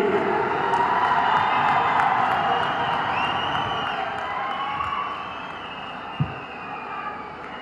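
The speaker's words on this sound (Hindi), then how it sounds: "आपकी जोरदार तालियों के बीच" Loud applause and cheering from a crowd at a public village gathering at Palli, Jammu, steady and dense throughout with a brief sharp thump near the end.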